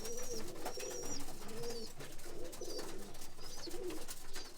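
Pigeons in a loft coo softly and repeatedly, low throaty rolling calls recurring every second or so over steady background noise, with faint higher chirps mixed in.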